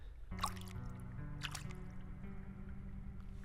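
Water dripping at a clean spring pool in the video game Crow Country, a few distinct drips landing over a steady low hum of ambience.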